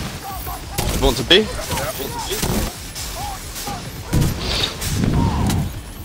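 Cannon fire booms and gunfire crackle during a raid in the video game The Secret World, with several sharp blasts scattered through the stretch while players talk over the din.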